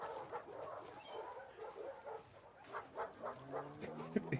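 Game audio from The Last of Us Part 2 of a dog playing fetch, with soft panting, whimpers and a few short yips over a steady background bed, growing busier toward the end.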